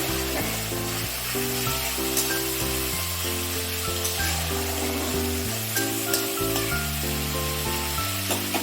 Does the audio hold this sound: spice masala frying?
yes